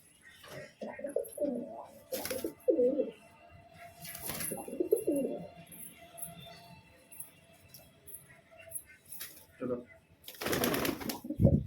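Pigeons coo in soft, low bursts near a handler who is catching and feeding them one by one, mostly under steady talk.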